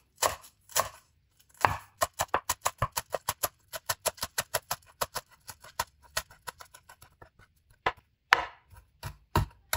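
Fresh coriander chopped with a knife on a board, a fast run of sharp, close, rhythmic taps after a few slower strokes, with brief pauses and no talking.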